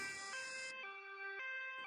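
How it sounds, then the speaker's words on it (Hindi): Cartoon ambulance siren: a clean electronic two-tone wail alternating between high and low pitches in quick steps, clear and alone. "एम्बुलेंस पीछे पीछे आ रही थी"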